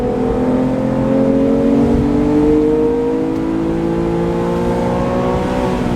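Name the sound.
Porsche 911 GT3 engine revving during ride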